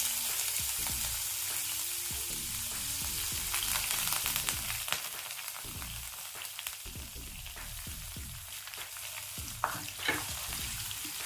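Sliced onions frying in oil over a medium flame after bay leaves, a steady sizzle with intermittent stirring and scraping clatter, close and continuous with no talking.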